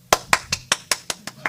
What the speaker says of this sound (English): I clap hand